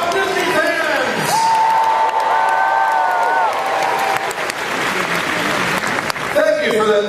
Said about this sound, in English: Thank you for that very warm applause.